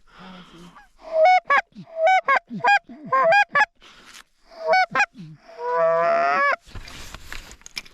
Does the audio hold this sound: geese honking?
yes